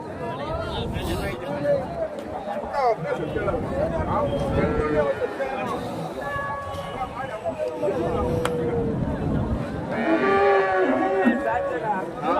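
Cattle and calves low and moo repeatedly at a busy livestock market in Chintamani, Karnataka, several calls overlapping near and farther off amid a steady babble of people talking.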